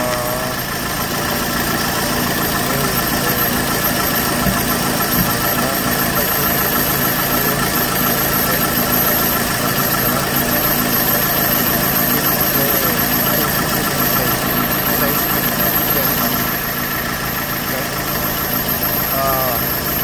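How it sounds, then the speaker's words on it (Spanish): A car engine runs at a steady idle after starting, a continuous even hum with faint vibration throughout, close by, while battery and charging checks go on nearby; occasional speech-like sounds ride over it. "Pueden ver que ya está prendido el motor."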